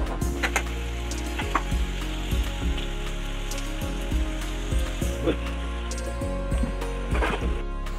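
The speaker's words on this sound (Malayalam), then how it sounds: "ഫസ്റ്റ് എണ്ണ ഒഴിച്ച് കടുക് വറക്കണം" Mustard seeds frying in hot oil for a Kerala-style sardine curry: a steady, rain-like sizzle runs throughout, dotted with scattered sharp pops and crackles, close and moderately loud.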